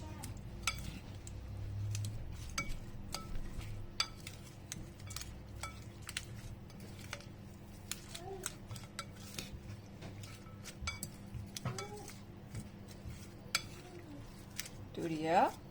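Bean sprout salad tossed by hand with utensils, producing light scattered clinks, taps and scrapes against a bowl, close but quiet, with people talking intermittently over it.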